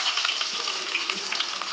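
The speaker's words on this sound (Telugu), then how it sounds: "ఇప్పుడు ఆయిల్ వేడైంది కదా! మనం కొంచెం జీలకర్ర ఆవాలు వేసుకుందాము" Cumin and mustard seeds sizzling in hot oil, giving a dense, steady crackle with tiny pops close by.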